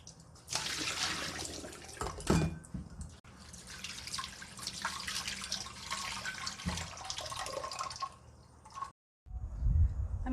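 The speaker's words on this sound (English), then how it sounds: "Rinse in a cold water to make the octopus firm and resilient." Baby octopus gets rinsed in cold water under a running tap in a kitchen sink, with steady splashing and dripping up close, a few brief pauses and sharp clatters, and a short silence near the end.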